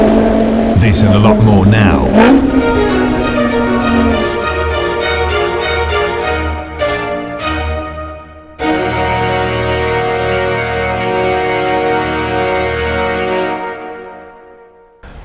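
A VW Up! GTI engine revs and runs loud and close, its note rising and dropping in several bursts, with a person talking over part of it.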